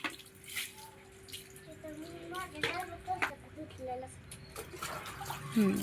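Water splashes and drips in uneven bursts as things are washed with a bucket, a close, hard-edged sloshing under ongoing conversation, including a voice.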